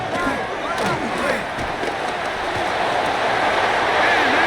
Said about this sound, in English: The crowd cranking it up another notch before 3rd and long.